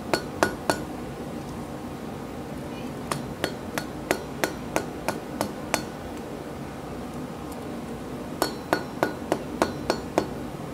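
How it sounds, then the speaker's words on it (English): Sharp metallic taps of a soft-faced hammer bending metal ring out in quick bursts of several strikes, separated by pauses, close and clear with a light ringing tail. "soft-faced hammer"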